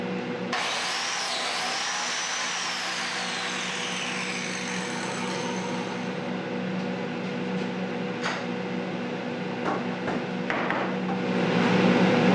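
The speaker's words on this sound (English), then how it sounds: "I took out my biscuit cutter and I cut biscuits in 4 different places on each of the boards" A biscuit cutter (biscuit joiner) whines steadily as it cuts slots into wooden boards, a continuous high motor tone that winds down partway through, followed by a few sharp clicks and knocks near the end.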